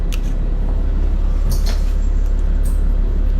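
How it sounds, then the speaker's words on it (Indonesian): A city bus in Moscow rumbles from inside with a loud, steady low engine drone and a few faint rattles and hisses, with no talk. "Jadi ini sekarang udah dalam bus, mau menuju pulang."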